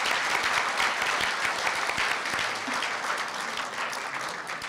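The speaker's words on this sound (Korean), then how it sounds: "다시 한번 박수 보내드리겠습니다" Sustained audience applause at a Korea University newspaper 70th-anniversary ceremony, honoring a poet who read a celebratory poem; dense, steady clapping from a sizable crowd fills the hall throughout, tapering only slightly at the end.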